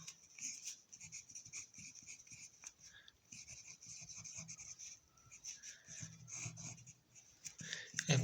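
Pen or marker strokes writing on a board, a series of short scratchy squeaks and rubs in uneven bursts, close and fairly faint, with a quiet voice underneath at times.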